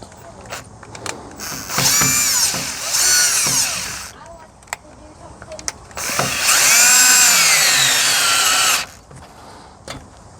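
A power drill fitted with a 1/2-inch socket, worked while installing an OEM camper package on a Ford F250, whines up in two long loud bursts with short pulses and clicks between them, close by.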